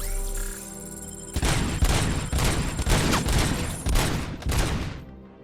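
Gunfire in the video game Robocop: Rogue City: a loud, dense volley of repeated shots and booms, with the heaviest burst near the start before it trails off.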